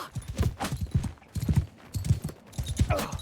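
Horse hooves clip-clop in Mount and Blade Bannerlord as an old, geriatric horse carries its rider past enemies on foot, with steady rhythmic hoofbeats close up over a light wash of background noise.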